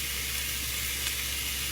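Chicken sizzling in a hot pan with sauce while cooking pad thai, a steady, moderately loud frying hiss that holds evenly throughout with no talking.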